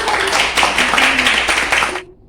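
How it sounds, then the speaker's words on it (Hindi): Audience at a health talk giving a welcoming round of clapping, a loud, close burst of many hands that stops abruptly after about two seconds. "प्लीज जोरदार तालियों से स्वागत कीजिएगा"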